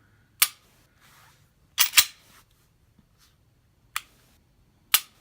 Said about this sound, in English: Magazine out of there. Close the slide.